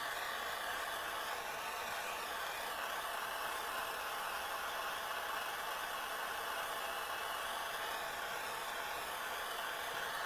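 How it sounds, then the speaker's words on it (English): A gas torch burns with a steady, even roar for the full stretch, warming flux on metal wire or sheet before annealing, with no voices over it. "let's go ahead and fire the torch up"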